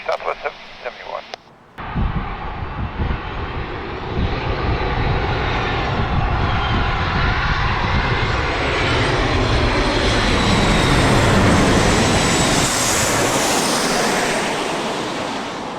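A Southwest airliner on short final to runway 27 at San Diego roars in loud and close, its jet engine noise rising and sweeping past in a sustained rush after a brief burst of radio chatter.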